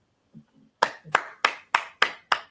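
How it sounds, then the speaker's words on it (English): A few people clap in a brief, sparse burst of applause for an NFL quarterback, with six or seven sharp, evenly spaced claps close to the mic after a couple of faint soft taps. "I'll give him his applause."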